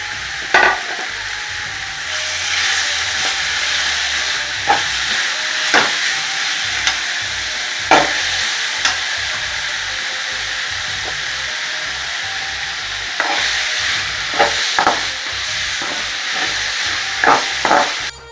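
Chutney ingredients sautéing in a pan on a stove, a continuous hissing sizzle with scattered sharp clinks and scrapes of stirring throughout, close and fairly loud, no voices.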